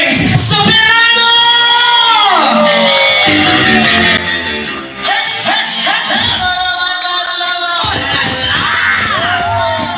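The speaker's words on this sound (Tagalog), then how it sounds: "Lakas na hiyawan" Wedding guests at a reception at Diversion 21 hotel in Jaro, Iloilo, cheer loudly to welcome a couple. Shrill yells, whoops and screams from a close crowd pour out continuously, easing briefly midway before surging again.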